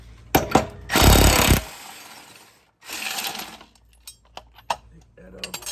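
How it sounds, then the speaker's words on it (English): An impact wrench hammers off a lawn mower blade in short, loud rattling bursts, with a longer burst near the start and another after a pause, followed by scattered clanks and small metallic knocks close by. "Remove the blade, so I like to use the impact."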